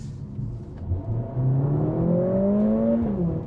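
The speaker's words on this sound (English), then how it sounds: "Sport Plus, we didn't downshift, but the louder exhaust note came on" A 2021 Mercedes-AMG CLA 45 engine revs up in Sport Plus mode, its exhaust note rising and swelling louder, with a steady rumbling drone and climbing tones, close by.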